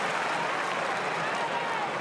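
Carlton supporters cheering in a packed football stadium during an AFL match against St Kilda, a steady, loud roar of crowd noise and applause that holds throughout.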